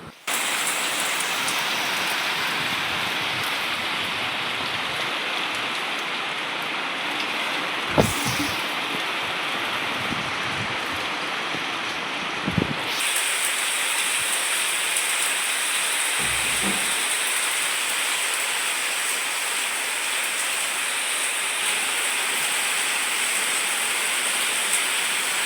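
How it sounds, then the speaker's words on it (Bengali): Heavy morning rain pours down in a constant dense hiss, close and loud, broken by a couple of brief knocks and thuds. "এদিকে সকালবেলায় কি জোর বৃষ্টি শুরু হয়ে গেছে দেখো।"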